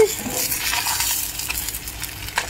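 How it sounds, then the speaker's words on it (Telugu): Goat brain frying in a pan on low heat, a steady close sizzle with soft stirring scrapes and a faint clink near the end. "చూడండి, గోట్ ఫ్రై అయిపోతూ ఉంది."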